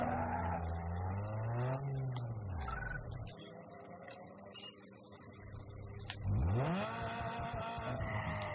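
Engine of a game car in Need for Speed Underground 2, revving and sliding with tire squeal, a sustained drone that sweeps in pitch, dips, then surges again as the car accelerates.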